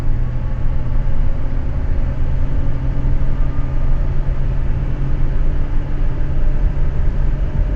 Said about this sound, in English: That's my acceleration with a fully loaded trailer.